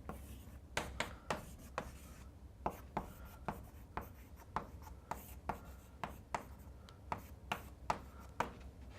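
Chalk or marker strokes tapping and scraping on a lecture-hall board, quiet and steady, with about two dozen short rhythmic strikes over a low room hum.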